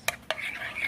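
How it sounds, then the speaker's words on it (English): Spoon stirring a bowl of cereal softened with added water, two quick clinks against the dish followed by a soft continuous scraping swirl, close and fairly quiet. "I'm going to stir that in."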